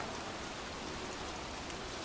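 Steady rain in the video game Heavy Rain, a dense continuous hiss of falling drops on surfaces, close and uniform with no voices.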